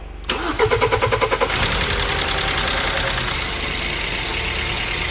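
A BMW E87 with an N43B20 engine, which has a faulty timing chain tensioner and a stretched chain, cranks and fires up with a short burst of rhythmic clatter. It then settles into a loud, close idle with a busy ticking from the fuel system.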